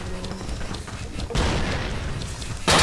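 A cannon mounted on a dinosaur's back firing in the game Dino D-Day, heavy booms and thuds amid a noisy battle, with a sharp loud blast near the end.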